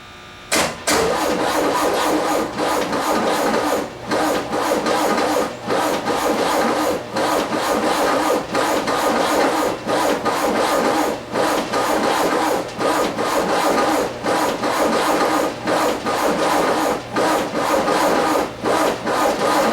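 A VW double cab engine cranks with help from a battery charger and jumper pack, a rapid rhythmic churning of the starter that runs loud and nearly unbroken, pausing briefly between bursts, without firing up.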